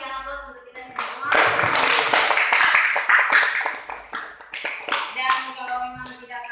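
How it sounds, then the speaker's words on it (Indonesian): A group applauds at an indoor gathering with a sustained round of clapping that swells and then thins out toward the end, while a voice speaks over it. "berikan aplaus untuk kita semua"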